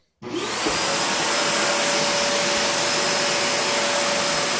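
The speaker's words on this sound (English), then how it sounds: "It's the vacuum time today." A household vacuum cleaner switches on and then runs with a loud, steady whooshing roar and a constant motor whine. It stays close and unbroken, and no voices are heard.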